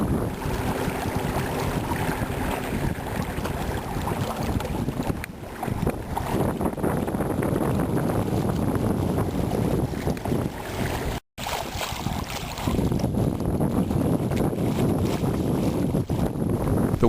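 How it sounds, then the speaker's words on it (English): A kayak modified for sailing moves through open water in a steady wind, with continuous rushing water and wind noise buffeting the microphone throughout. "Sailing in the reach positions with about a 10-mile-an-hour wind, I get about a 7-mile-an-hour forward speed."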